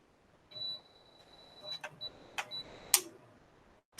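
A camera in manual mode fires its shutter at a very fast 1/1600 speed, giving a handful of crisp, quiet clicks spread over a few seconds, with a faint high tone in between.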